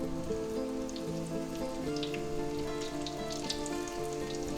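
Large eggplant slices frying in hot oil in a pan, a steady dense crackle and sizzle with scattered bright pops, close and continuous throughout.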